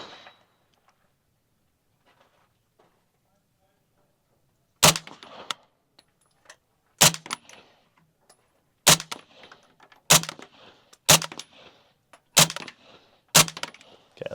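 Seven loud, sharp pistol shots at steel targets on an outdoor shooting range, spaced irregularly about one to two seconds apart after a quiet opening, each crack followed by a brief ringing tail.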